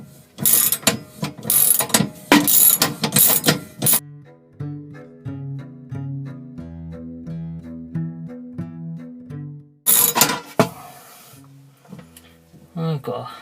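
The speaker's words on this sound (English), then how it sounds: "go back round the front and see if we can get that nut undone" A ratchet works at a nut on a fan oven motor, with bursts of rapid metallic clicking at the start and again near the end around a quieter stretch of lower ringing tones, close and loud.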